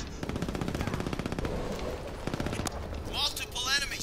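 Rapid automatic gunfire in the shooter game Brink rattles in a fast steady burst, then breaks into a few scattered shots, with a player's voice speaking over it.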